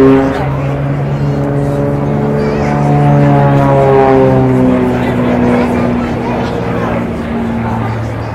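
Aerobatic airplane engine straining through a vertical climb at an air show in Lovere, a loud sustained drone with pitch slowly shifting and sliding harmonics, continuous for several seconds.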